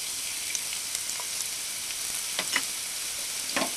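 Garlic sautéing in a tablespoon of cooking oil in a kawali, a steady close hiss of frying with a few soft pops and crackles and no voices.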